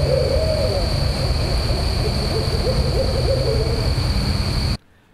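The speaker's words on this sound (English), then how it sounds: "there was a barred, northern barred owl here in the United States." A northern barred owl hoots in a rhythmic series of calls over steady background hiss and hum, recorded on an iPhone outdoors, ending abruptly near the close.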